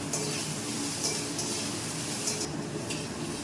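Potatoes frying in a pan, a steady close sizzle with occasional light scrapes and clinks of a utensil against the cookware, continuous throughout with no talk.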